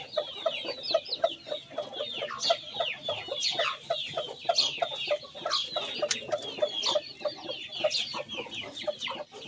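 Chickens at a poultry breeder's yard cluck and chatter continuously and fairly close, many birds overlapping in a busy, steady flock din with no talk.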